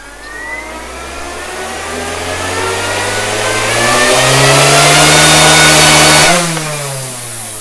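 A Goosky S2 RC helicopter motor on a 3S battery spins up with a rising whine that grows louder and steadier. It peaks close by and then drops away near the end, with no talk over it.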